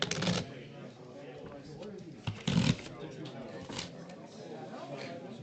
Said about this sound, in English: Take 2 and shuffle them right together.